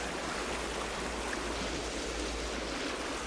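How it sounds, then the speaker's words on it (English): Mountain stream rushing through pocket water in Wales, a steady broadband wash of flowing water filling the whole clip at an even, moderate level. "All pocket water and mountain streams."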